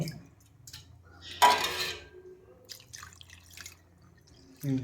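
Water poured over biryani in a pressure cooker, a short splash and trickle with a few drips and light clinks of the metal pot, heard nearby in a quiet kitchen.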